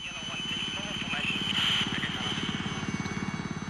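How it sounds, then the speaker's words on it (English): Military helicopter from the 1977 Rhodesian Bush War coming in to land, its rotor throbbing in a steady rapid pulse that swells slightly midway and stays close and prominent throughout, with a faint higher whine above. "As the first chopper comes into land, an airstrike is put in on the suspected guerrilla position."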